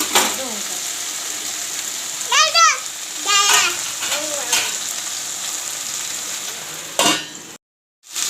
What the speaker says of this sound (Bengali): তো আমাদের সবজিটাকে ওই তেলের মধ্যে ভেজে নিয়ে তারপরে মশলাগুলো দেব